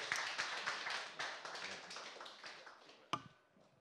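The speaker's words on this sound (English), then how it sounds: "Come on, give him a better clap." Modest clapping from a seminar audience, fairly quiet and thinning out, ending with a sharp isolated tap near the close.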